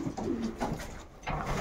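A hen pigeon coos in a breeding loft. Several soft, throaty coos come in close succession at a steady rhythm, near and clear, with no talking.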